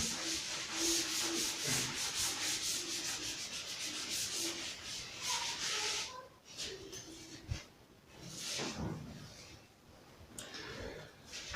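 Writing is rubbed off a classroom board during a maths lesson. Close, steady, scratchy wiping strokes repeat for several seconds, easing off briefly partway through, then resume.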